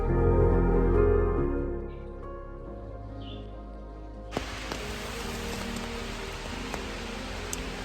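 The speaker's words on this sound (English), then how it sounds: "Here comes the rain." Rain begins falling on a campsite along the Appalachian Trail in Virginia, a soft steady hiss of light drops that swells in after a low hum fades, with scattered faint taps.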